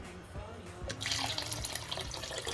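Three cups of water poured into a pot for pumpkin soup, a quiet splashing, trickling flow that starts partway through and carries on steadily, soft and close with faint background noise.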